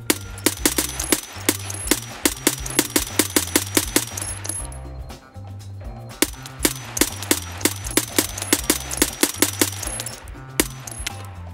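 Gunfire in a video game shooter while engaging players headed for extraction: rapid sharp shots in quick bursts and steady rhythmic runs, with a short lull midway, over a low pulsing background.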